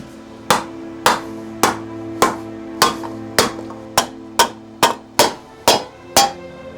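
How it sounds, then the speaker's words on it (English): A hammer shapes and dishes a metal armour plate for an Uruk-Hai replica, worked on a wooden stump, with about a dozen loud, close, ringing blows struck at a steady, even rhythm, each ending in a short metallic decay. "So as I'm hammering it and it's kind of dishing up"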